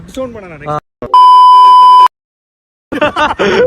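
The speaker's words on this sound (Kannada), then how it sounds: "ಬೀಪ್ ಹಾಕಿದ್ದು ಬ್ರೋ" A steady, loud censor bleep tone lasts about a second, sitting alone between stretches of casual talk in a Kannada-language vlog.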